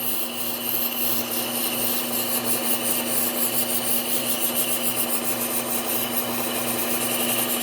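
A serrated Wusthof or Henkel kitchen knife is sharpened against a running belt sander, giving a continuous close, moderately loud gritty rasp over the motor's steady hum, with no talk.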